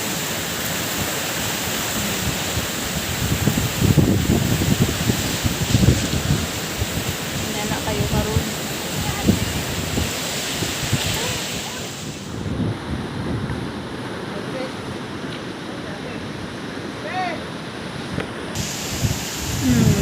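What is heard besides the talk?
big ocean waves at beach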